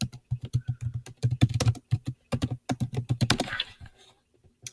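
Fast typing on a computer keyboard, a near, dry run of crisp key clicks in uneven bursts with brief pauses, then trailing off at the end.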